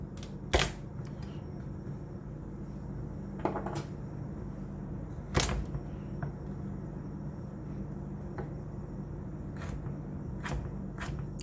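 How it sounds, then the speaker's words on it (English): Knife slicing through peeled carrots with the ends trimmed off, producing a handful of sharp, separate cuts and taps on a cutting board, spaced several seconds apart over a low steady room hum. "I'm going to slice up 2 carrots, taking off the ends."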